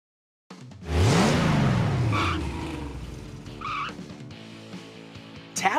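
Engine revving and tires skidding in a Blaze and the Monster Machines game: a loud engine roar sweeps up in pitch and then settles, followed by fainter skids and squeals, and a sharp burst at the very end.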